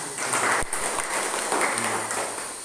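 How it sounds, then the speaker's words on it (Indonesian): A class of children applauds during a school physical education lesson, a brief, moderately loud burst of mixed clapping with a slight hum behind it. "Oke, tepuk tangan."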